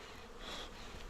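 Honey bees hum at an open hive during a brood inspection, a soft, continuous buzz that swells slightly in the middle of the short stretch, faint and without talk.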